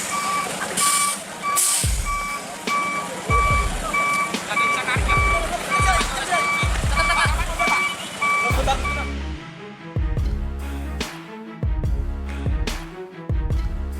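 A Tronton heavy truck reversing, its backup alarm beeping steadily in an even rhythm for several seconds over a low diesel engine rumble, followed by heavy thuds and clanking.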